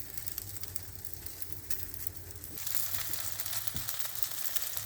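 Sausages fry on a griddle cube set inside an outdoor grill, giving a faint, steady crackle that grows louder and denser partway through, with no talking.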